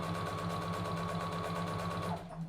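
A sewing machine runs steadily for about two seconds, stitching bias binding along a dress neckline, a continuous close mechanical whir with rapid stitching pulses, then it stops abruptly.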